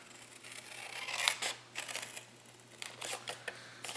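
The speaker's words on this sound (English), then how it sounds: "Just going to cut straight up. Straight up this score line." Scissors cut up the score line of a cardboard lemon zest tealight box, giving a run of crisp, close snipping and crunching bursts over a steady low hum.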